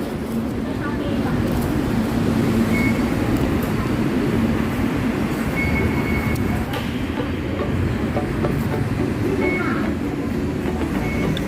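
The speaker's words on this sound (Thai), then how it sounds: "เราจะนั่ง รถไฟฟ้า BTS ไปลงที่สถานีสยาม" Riding the BTS Skytrain in Bangkok: a steady, close rumble of the train car on the rails with a few brief higher tones, while people talk in the background.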